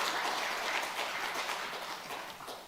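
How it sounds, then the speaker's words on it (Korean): A church congregation claps together during a Korean sermon, a dense, steady wash of many hands heard from a little distance that gradually fades toward the end. "하나님께 크게 영광의 박수 한번 올려드립니다."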